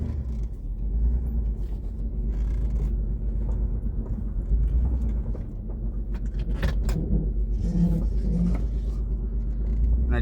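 A Dodge Stealth that still has several faults pulls away on a short test drive. Its engine gives a steady, fairly loud low rumble that runs continuously, with a few brief knocks and rattles over it and no speech.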